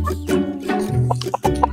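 A chicken clucks in short, close bursts, several quick calls in a row.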